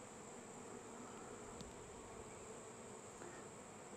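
Honey bees buzzing inside an open hive affected by chalkbrood, a steady, dense hum that holds at an even level throughout with no breaks.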